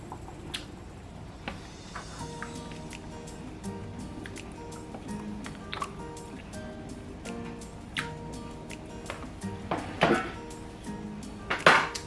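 A spoon stirring egg sauce with tuna canned in brine in a pot on low heat, giving scattered scraping and clinking knocks against the metal, sharper and louder toward the end.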